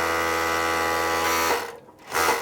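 A sewing machine runs fast in a steady, loud mechanical whir for about a second and a half, then slows and stops before starting up again briefly.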